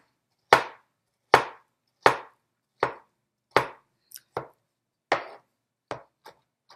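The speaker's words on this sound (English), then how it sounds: "we're going to chop this up" A knife chops through tomato on a cutting board, with about ten sharp, evenly spaced chops close up that grow slightly quicker and lighter toward the end, with no talk.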